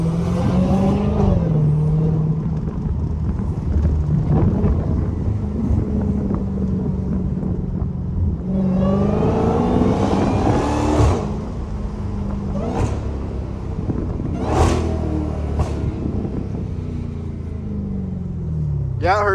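A Dodge Hellcat rumbles through city streets with a steady low exhaust drone and wind noise, broken by a few sharp pops, while someone talks over it.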